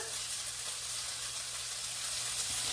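Lamb sears in a hot pan for a Greek flatbread, a dense steady sizzle of browning meat just after being turned over, loud and close without speech.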